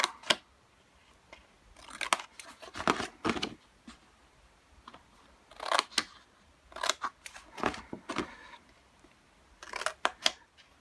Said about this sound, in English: you can see where you need to cut those little tabs out for folding and sticking